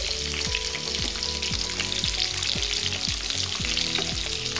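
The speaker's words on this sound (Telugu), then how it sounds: "వీటన్నిటిని మనం ఇప్పుడు గోల్డెన్ బ్రౌన్ కలర్లో వచ్చేంతవరకు వేయించుకుందాము" Sliced onions, green chillies and carrot frying in oil for tomato rice: a loud, continuous sizzle with a regular rhythm of spatula scrapes against the pan, close and without speech.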